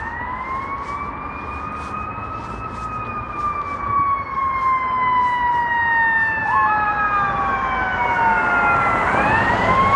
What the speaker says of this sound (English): that was a very loud horn from that ambulance.